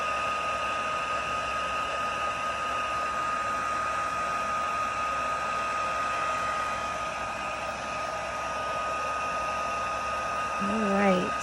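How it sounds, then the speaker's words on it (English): A heat tool blows steadily on gold embossing powder on a paper wedding card, a constant close hiss of hot air with a faint electric whine that barely changes across the whole stretch. "Make sure you're moving your heat tool around."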